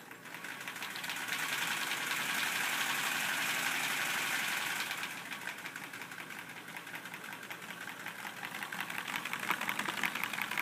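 Lego model diesel engine running with an uneven knock, a dense rapid mechanical rattle up close that swells louder for a few seconds before settling back to a steadier clatter, with no talking.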